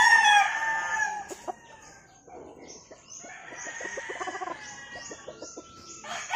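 A brood rooster, a Kelso Pure gamefowl, crows loudly at first, then clucks in a rapid, near series of short calls, with other fowl sounding in the background.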